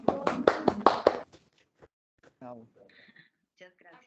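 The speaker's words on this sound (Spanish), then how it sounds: "le demos un fuerte aplauso a Paola por su excelente presentación" Brief scattered clapping from a few participants in an online conference, several quick claps close together at the start, followed by faint taps and near-silence.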